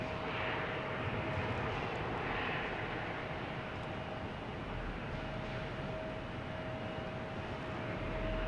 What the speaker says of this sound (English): So here's United Airlines A321neo coming in from Denver.